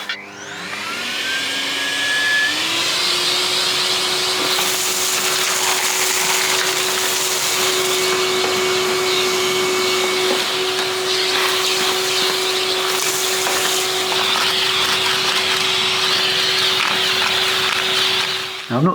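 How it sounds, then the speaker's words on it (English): A vacuum cleaner runs steadily and loudly over sooty stones of an old cottage fireplace, its motor whining up to a constant hum with shifting suction hiss. "Going to give it a quick hoover down."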